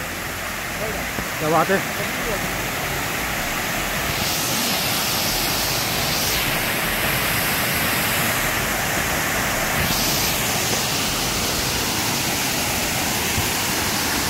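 Waterfall at Ghonsari village in the Konkan, a constant broad rushing roar of falling water filling the whole stretch, with a brief spoken exclamation near the start.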